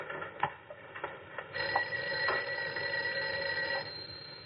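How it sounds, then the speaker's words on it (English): A telephone bell rings in a business office, sounding as a buzzy ring that starts after a few soft knocks and then holds steady and fairly close for several seconds. "I think your phone is ringing."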